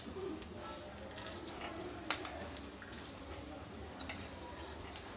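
Jaggery added to a pan and stirred over low heat for homemade chyawanprash, a faint steady sizzle with scattered scraping stir sounds and one brief clack midway.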